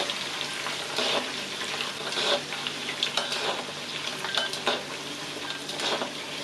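Banana slices fry in bubbling sugar with a steady sizzle, broken by scraping stirs from a utensil in the pan.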